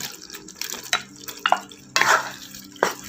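Macaroni is stirred into a beef and mushroom sauce in a pan, with a close wet, squelching scrape repeated several times over a low simmer.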